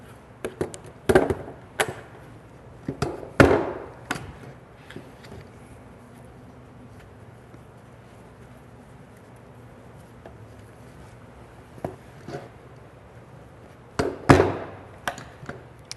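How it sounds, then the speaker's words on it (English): Fabric being stapled onto a foam core frame to make a light diffuser: sharp, close staple-gun snaps, several in quick bursts near the start and a couple more toward the end, with quiet room tone between. "we're going to go ahead and staple that down"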